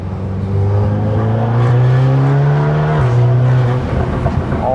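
A Volkswagen GTI engine in dynamic mode with its exhaust valves open revs hard and loud, its pitch climbing steadily then dropping sharply before building again, close and alone.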